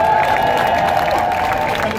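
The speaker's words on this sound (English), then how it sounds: "Let's give her another round of applause." Crowd at a Philadelphia rally for Walter Wallace and counting the vote claps and cheers at a steady, loud level, with a broad wash of hands and voices and no single voice rising above it.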